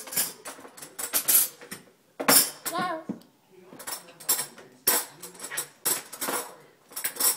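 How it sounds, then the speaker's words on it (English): Silverware and dishes being put away by a child at home, with repeated metallic clinks and clatters in bursts, close and fairly loud, while someone talks encouragingly between them. "Whoa, that's a lot of silverware you got."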